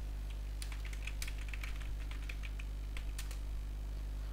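Light keyboard typing, faint sparse key taps clicking irregularly over a steady low electrical hum, as a search is typed into Google on a computer.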